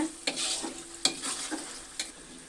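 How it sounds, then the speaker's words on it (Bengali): Spiced goat meat, simmered until its oil has separated, gets stirred in a pan, a soft steady sizzle broken by three or four distinct scraping strokes of the spoon, close and unaccompanied by voices. "মাংসটা ভালোভাবে কষানো হয়েছে, আর দেখতেই পাচ্ছেন মাংস থেকে খুব সুন্দর তেল ছেড়ে দিয়েছে।"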